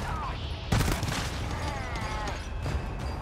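Gunfire in GTFO aimed at a giant enemy: a sharp burst of shots at about 0.7 s, then several quick follow-up bursts in a rough volley, loud and close, with faint game sounds underneath.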